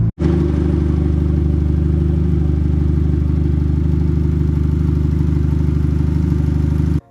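A turbocharged D16Y8 engine in a Honda Civic project car runs close and loud, starting abruptly and holding a steady, even drone throughout before stopping sharply at the end.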